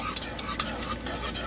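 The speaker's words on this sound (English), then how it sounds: "slowly whisk this in so it really kind of combines" A whisk stirring unsweetened vanilla almond milk into sugar-free egg nog in a pot on low heat, with quick rhythmic metallic taps against the pot over a soft liquid swish.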